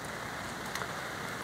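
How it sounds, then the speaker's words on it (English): Rain falls on an umbrella during a windy, wet fishing session, making a steady, dense hiss with no gaps. "this rain's not stopping at all."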